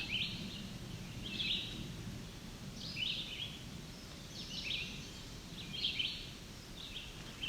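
A chestnut-sided warbler sings in the distance in juniper flats, several short high bright phrases repeating at intervals of about a second and a half over a low steady rumble of wind.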